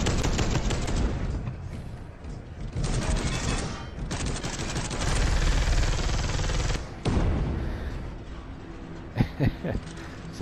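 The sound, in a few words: assault cannon firing in Space Hulk: Deathwing video game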